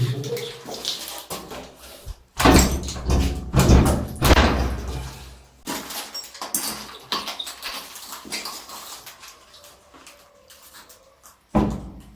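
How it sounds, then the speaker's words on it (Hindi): A door swings shut with a couple of heavy thuds and knocks amid rustling and shuffling in a room, the bumps loud and close, then a final knock near the end. "ये देख लें चांदनी, डोर फिर से जो है ना ये बंद हो गया है।"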